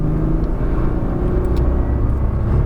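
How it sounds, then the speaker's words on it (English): A Nissan GT-R accelerates at full power around a race track, giving a loud, steady, close engine roar and rumble heard from inside the car with no voices. "Unwinding, accelerate, back over right, full power."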